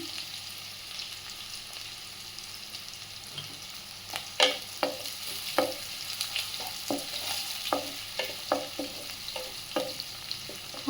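Onions fry in a pan until golden, a soft steady sizzle punctuated by a rhythmic run of spatula scrapes and taps against the pan, close and with no talk.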